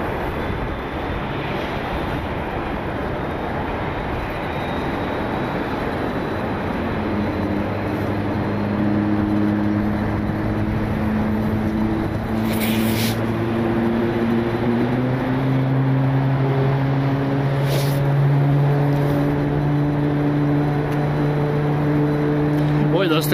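A United Boeing 737 MAX 8 airliner's jet engines spool up at an airport, a steady broad roar with slowly rising whining tones building over time, with no one speaking.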